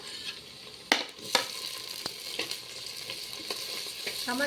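Tomatoes and curry leaves frying in a clay pot give a soft, low sizzle broken by a few sharp scrapes and clinks of a stirring spoon, close by and fairly quiet.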